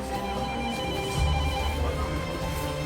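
A telephone rings in a café in Corte, a repeating electronic ring sounding steadily over a low hum of room noise and background activity.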